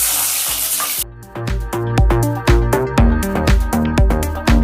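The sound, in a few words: bitter gourd frying in mustard oil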